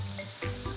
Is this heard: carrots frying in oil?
yes